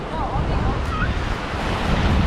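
Ocean surf at Fort DeSoto beach beside an old WWII fort structure in the water: a steady, loud wash of waves mixed with gusty wind buffeting the microphone.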